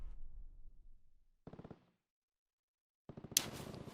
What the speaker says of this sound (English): The gunfire's starting.